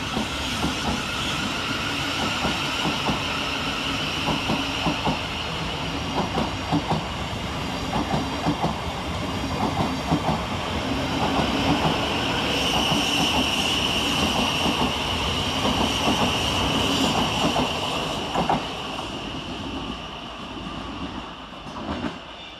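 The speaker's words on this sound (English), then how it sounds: "Next over on the far side sees the departure of 700-136, working the 1129 Thameslink service from Brighton to Bedford." Thameslink Class 700 unit 700-136 departs Preston Park station on the far side, a steady loud rumble with clattering wheels and a whining electric drive that holds for about twenty seconds before easing slightly.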